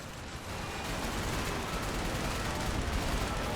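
Sustained machine gun fire from an LVT in a Men of War Assault Squad beach landing against Japanese defenders: a dense, steady roar of rapid shots, loud and continuous with no talk.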